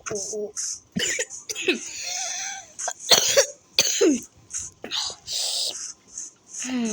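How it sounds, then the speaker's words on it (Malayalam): A player coughs several times during a Minecraft session, quick rough bursts mixed with soft whispering and throat clearing, close to the microphone. "ചുമ"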